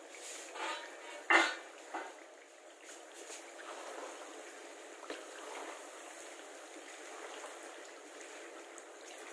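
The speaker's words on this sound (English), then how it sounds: "Now let's cover it with the lid so that the chili gets cooked faster." A metal lid clanks onto a cooking pot with a sharp close clatter near the start, followed by soft kitchen clinks and a quiet simmering hiss.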